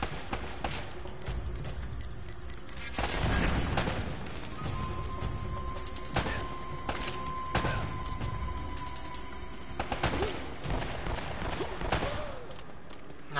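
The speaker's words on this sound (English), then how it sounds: "I hear him firing away, huh?" Enemy gunfire in Uncharted: Drake's Fortune crackles as scattered, irregular shots and bursts over a busy game soundscape, with several louder cracks standing out at moderate distance.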